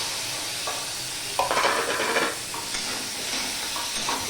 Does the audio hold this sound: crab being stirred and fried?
yes